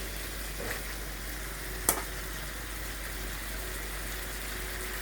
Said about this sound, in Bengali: আজকে বিরিয়ানি রান্না করতেছি এই যে নতুন ফ্রাই প্যান এর জন্য